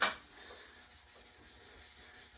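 Soft, steady back-and-forth rubbing of sandpaper wetted with mineral spirits, strokes repeating roughly twice a second after a brief louder scrape at the start; quiet, close, no talking.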